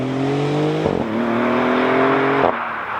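A Maserati GranTurismo Trofeo drives off, its engine note rising steadily in pitch with two audible gear shifts, heard close from inside or near the car, no talking.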